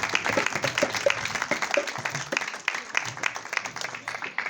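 Enthusiastic applause fills a church gathering at a Good Friday meeting, a dense, steady wash of many hands clapping close by for the whole stretch, with faint voices mixed underneath.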